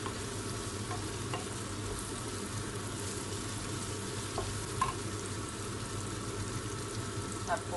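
Mushrooms sizzle steadily in a hot pan, a constant close frying hiss with occasional faint clinks and stirring.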